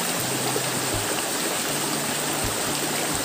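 Steady broadband rush of a flowing river nearby, with a faint low hum underneath and no voices.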